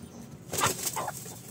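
Hens in a backyard chicken shed on a small farm, where birds have just laid eggs, let out a short burst of clucks and squawks with wing flutter. It sits near and moderately loud over quiet background, and no one speaks.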